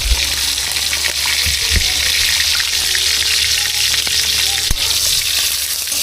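Chili fries in hot oil in a pan while lomi is being cooked, a loud, dense, unbroken sizzle with occasional sharp pops and faint stirring scrapes, no talking.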